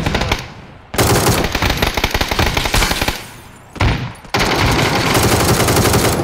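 Gunfire in a video game with a shotgun in use, loud dense bursts of rapid shots broken by a couple of short pauses, close and dominant with no talk over it.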